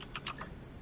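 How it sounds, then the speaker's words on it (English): Quick bursts of keystrokes on a mechanical keyboard click faintly in the background, four or five taps in under a second under a low room hiss. "mechanical keyboard is bad. loud as fuck."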